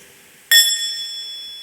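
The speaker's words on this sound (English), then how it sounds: "wake up the bell by making a half sound, not a full sound, just a half sound like this" A meditation bell is struck once lightly for a soft half sound, giving a clear ringing tone that decays slowly in a quiet room.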